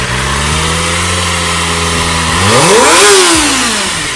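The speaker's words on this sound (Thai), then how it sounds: "แต่ใครจะไปรู้ว่าเสียงท่อเดิม มันก็แซดแล้วนะครับ" A Kawasaki ZX-25R sport motorcycle with its stock exhaust idles with a low rumble, then revs up sharply and drops back down, loud and close.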